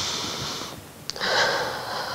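A person takes a deep breath during a Chinese stretching exercise class, with a long airy inhale and exhale heard close.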